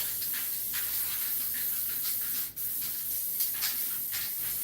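A water-based aerosol spray paint can hisses in bursts, a steady airy spray with brief pauses, quiet and close, with no talking.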